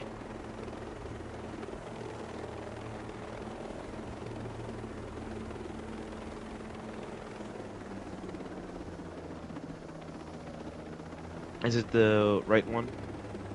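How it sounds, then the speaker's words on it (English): Video game helicopter descending toward a helipad to land southwest of it, a steady low rotor drone running throughout beneath talking, with a brief burst of louder sound near the end. "I'm going to descend the helicopter and land to the southwest of the helipad."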